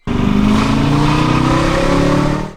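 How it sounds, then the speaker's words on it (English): BMW F10 M5 V8 at wide open throttle, loud and close, its roar rising with steady harmonics while the boost and throttle surge unevenly, with no talk over it. "you can hear the inconsistency in throttle and boost during wide open throttle"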